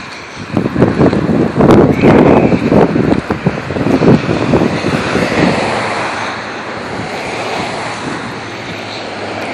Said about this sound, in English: It's really, really windy out here.